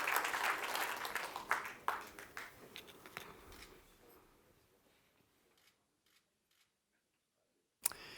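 An audience at the SPEPS 2019 awards ceremony claps for a prize winner, dense at first and then thinning out and dying away into near silence, with a brief sharp sound at the end.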